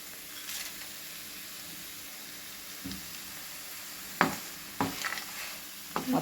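Bottle gourd halwa with fried dry fruits being stirred in a pan, giving a few soft scraping and clinking strokes over a faint low sizzle, with sharper clatters near the end.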